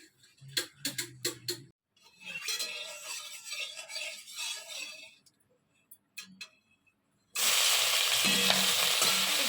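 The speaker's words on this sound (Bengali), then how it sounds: "আগে মাছগুলো ভেজে নিই" Fish, apparently prawns, dropped into hot oil in a wok, with a few clinks and short bursts of sizzling before a loud, close, steady frying hiss erupts and continues to the end.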